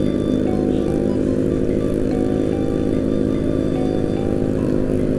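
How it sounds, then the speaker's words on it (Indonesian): A Yamaha Mio motorcycle's loud exhaust drones steadily and close, a constant throaty buzz with no break and no speech. "Aduh, knalpot Mio anjir. Suara knalpotnya bacot banget."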